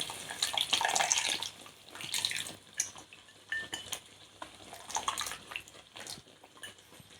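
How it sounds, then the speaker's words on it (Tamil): Dissolved tamarind water poured into a fish curry (meen kulambu), a splashing, trickling pour with clinks of a vessel, fairly close and moderately loud, fading in and out over several seconds. "புளி கரைச்சி வச்சுருக்கோம்லவா அதை ஊற்றிக்கணும்"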